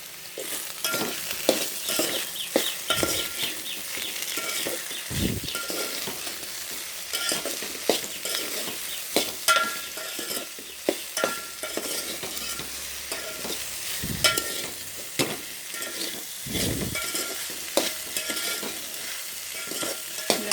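Fresh okra pieces sizzle steadily in hot oil in a pan, with frequent scraping and clinking strokes as they are stirred, close and alone without talk.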